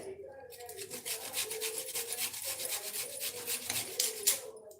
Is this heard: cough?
no